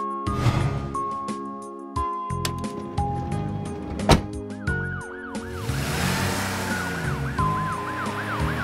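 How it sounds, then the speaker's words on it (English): A cartoon ambulance siren wails with rising and falling tones, loud and close, over vehicle noise and shifting pitched sounds. "Ambulance."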